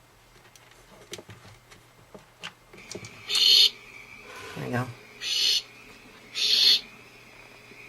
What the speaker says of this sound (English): These are barn owls.